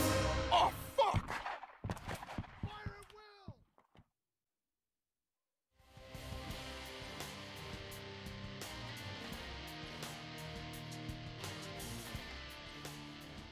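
Gunfire in an ARMA video game firefight: sharp shots and ringing tones, a brief silence, then a dense, sustained wash of battle noise with repeated cracks.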